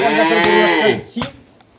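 A crossbred Shankar dairy cow on a rural farm in Dinajpur lets out one loud, close moo lasting about a second, followed by a short fainter grunt.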